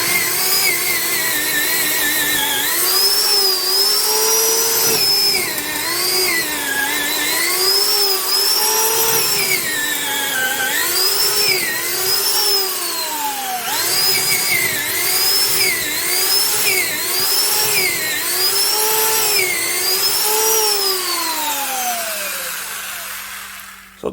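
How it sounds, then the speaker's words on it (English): A Milwaukee 3/8-inch compact angle drill whines loudly and continuously, its pitch rising and sagging repeatedly as it bites into a wood block, then winding down at the end. "We'll use old familiar block here."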